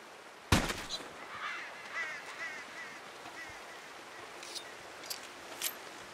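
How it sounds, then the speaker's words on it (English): A western gray squirrel in Red Dead Redemption 2 gives a sharp snap followed by faint, raspy chirps and a few short squeaks over a quiet outdoor ambience. "Oh, nope, it was a squirrel."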